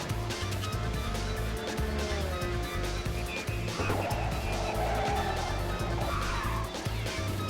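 Ridge Racer 2 on PSP, played through emulation: a steady engine drone runs throughout, with a scraping, grinding rasp of the car's side against a wall swelling in the middle and again near the end, with faint talk underneath.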